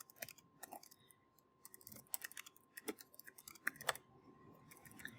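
Typing on a computer keyboard, a run of irregular clicking keystrokes in bursts with short pauses, close and fairly quiet, no voices.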